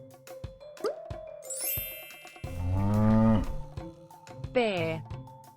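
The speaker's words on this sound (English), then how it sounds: "Cow." A cow moos in a few drawn-out, rising and falling calls, close and fairly loud, with a brief higher call near the end and a faint jingle in the background.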